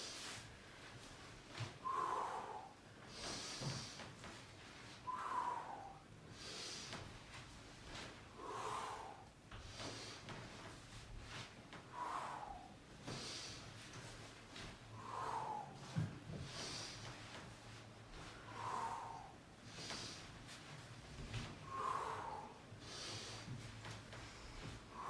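Rhythmic breathing during a restorative yoga and fitness workout, a soft exhale recurring roughly every three seconds in a slow, steady cycle, close and quiet with no talking.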